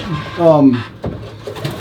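Racing pigeons in a loft coo and call briefly at close range, with short wing and movement noises, while someone talks over them.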